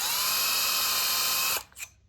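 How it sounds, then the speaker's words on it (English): Power drill bores steadily into a metal rail through a drill guide jig, a loud continuous high whine that cuts off abruptly and spins down with a short tail of faint rattles. "use the drill guide to start drilling the metal"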